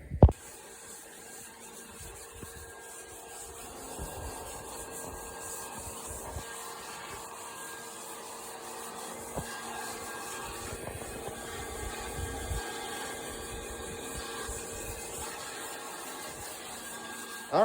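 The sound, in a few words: polishing an old car bumper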